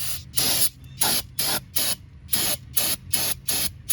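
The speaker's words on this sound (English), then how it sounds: "We can take our brake clean." Brake cleaner sprays onto the hub of a 2002 Pontiac Grand Am in eight short, evenly spaced hissing bursts, close and loud, with brief silences between them.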